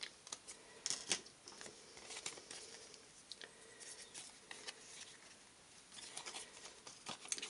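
Scissors snip the end tabs off a paper hexagon box, faint close clicks and rustles of paper repeating irregularly in a quiet room with no talking.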